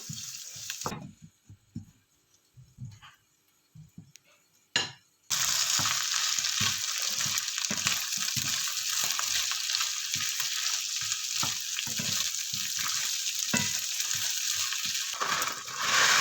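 Carrots and potatoes fry in a pan for beef giniling, giving a steady loud sizzle after a quieter start broken by scattered stirring and clatter.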